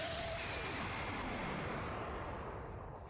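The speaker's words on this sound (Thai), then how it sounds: "เค้กระเบิด" A cake exploding in the video game VRChat, a dense, roaring blast of noise filling the whole clip, loud and steady like a sustained explosion rumbling on without pause.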